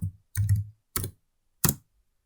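Computer keyboard typing a short word, four separate close keystroke clicks spaced unevenly over about two seconds, crisp and quiet.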